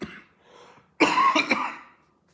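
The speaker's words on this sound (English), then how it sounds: "if I do have any coughing fits" A person who is quitting smoking has a coughing fit: a faint throat rasp, then one loud harsh cough followed by a couple of quick, rough coughs close to the listener.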